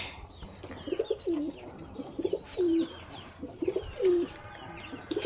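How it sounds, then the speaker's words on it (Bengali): Pigeons on a small home pigeon and hen farm coo in repeated low, rolling calls at a steady rhythm, close by, with faint chirps from other birds in the background. "এগুলো কবুতর।"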